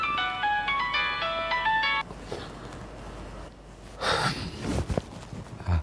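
A mobile phone rings with a melodic ringtone for about two seconds, then cuts off, followed by breathing and rustling.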